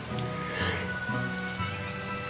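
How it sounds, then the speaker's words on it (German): Steady rain falling in the Tales of Berseria video game, a continuous hiss of rainfall beneath looping game music. "es regnet in Westgate schon einfach so viel"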